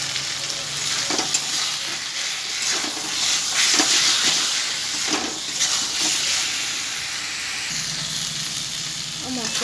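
A spice masala with turmeric and salt fries in oil with a steady close sizzle and occasional stirring scrapes, with a voice speaking in the background.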